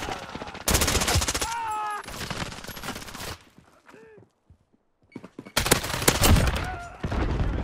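Automatic gunfire in Modern Warfare comes in loud, dense bursts at the start and again near the end, with a quieter stretch between, and players talk excitedly over the shooting.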